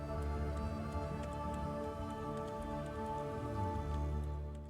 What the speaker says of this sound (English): Very, very rainy here today.